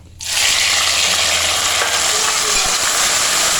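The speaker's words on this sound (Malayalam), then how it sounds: "ഇനി ഇതിലേക്ക് ചെറുതായിട്ട് കട്ട് ചെയ്ത് വെച്ച 3 തക്കാളി ചേർത്ത് കൊടുക്കാം" Chopped ripe tomatoes, three of them, hit a hot pan over low flame and break into a loud, steady sizzle that holds evenly after a sudden onset, with faint stirring beneath.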